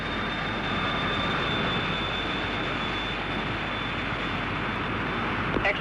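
Early British jet aircraft on its takeoff run, a loud, steady engine roar with a high whining tone running through it and a faint click near the end.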